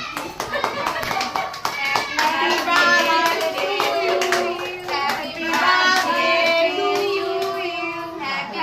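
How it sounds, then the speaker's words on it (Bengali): A group claps hands steadily and loudly, close by, at a birthday celebration, while voices sing or chant along the whole time. "আমরা হাততালি দিয়ে"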